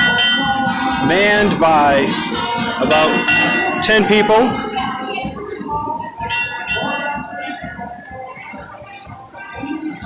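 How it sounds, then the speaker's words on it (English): At an outdoor parade, a bell rings repeatedly on a modern fire engine, bright metallic strokes that are loudest early and then grow sparser, with someone narrating over it. "It has all the bells. I don't know if it has the whistles, but I hear the bell."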